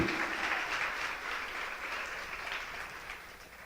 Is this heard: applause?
yes